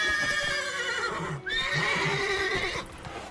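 A horse in the Witcher 3 video game lets out a long, loud whinny that rises and falls over about three seconds, with faint hoof clops underneath and no voices.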